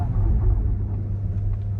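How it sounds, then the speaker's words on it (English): VinFast VF8 electric SUV with a wheel spinning on rough ground while two wheels lift in the air, a steady close low rumble and motor drone throughout, no talk. "Did you hear the wheel spin?"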